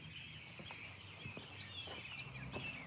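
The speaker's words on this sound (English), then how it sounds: "Can you hear the birds singing?" Birds chirp and sing repeatedly in early-spring trees outdoors, with short bright calls coming in quick succession at a moderate distance over a soft background hiss.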